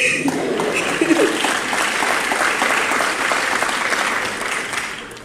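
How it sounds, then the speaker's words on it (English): Audience applause at a high school event honoring teachers, a full, even wash of clapping that holds steady and then tapers slightly toward the end. "Okay, you can clap."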